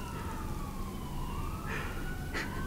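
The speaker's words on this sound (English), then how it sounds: "Do you think people can hear that ambulance?" An ambulance siren wails past on Main Street outside a studio, its steady sweeping tone carried over a dense traffic hum at moderate distance, with no talk.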